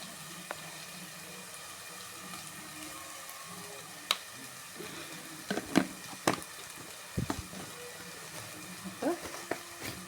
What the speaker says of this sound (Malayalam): നമുക്ക് ആ എണ്ണയിൽ തന്നെ ആ പൊടിയിട്ടൊന്ന് നല്ലതുപോലെ ഒന്ന് വരട്ടി ആ പൊടിയുടെ പച്ചപ്പൊക്കെ ഒന്ന് മാറ്റിയെടുക്കണം